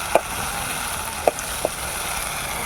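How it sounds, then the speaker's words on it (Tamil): Tomatoes saute in hot oil in a pan for a Dindigul-style brinjal curry, a soft steady sizzle broken by a few sharp clicks of a spoon against the pan. "நல்லா வதக்கணும்."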